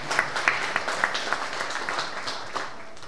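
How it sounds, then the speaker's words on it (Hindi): An audience claps at a Hindi Day closing ceremony. It sounds like a continuous wash of hands with a few sharper individual claps standing out near the start, at moderate level and without speech. "तालियों के साथ साथ।"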